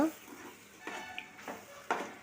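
Chicken biryani is stirred in a pot with a gentle sizzle underneath, as a few distinct scraping strokes of a spoon sound up close against a quiet background.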